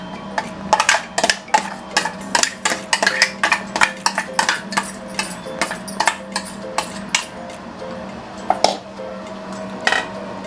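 Tomato chutney is scraped and spooned into a steel bowl, with repeated sharp metallic clinks and taps of spoon against steel in an irregular rhythm, close and clear, with no talk.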